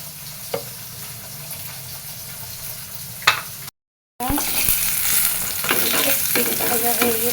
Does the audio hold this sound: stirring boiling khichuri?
yes